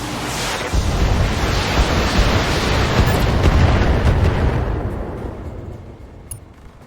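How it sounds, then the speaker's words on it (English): A battle mech in a video game firing all of its weapons at once, a loud, dense roaring barrage that holds for several seconds before fading away. "Firing all weapons."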